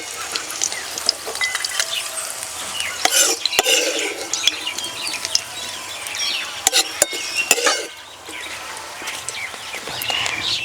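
Fried cashews and raisins being lifted out of a ghee-filled pan, with a spoon scraping and clinking against the metal in several sharp knocks over a low sizzle, close by.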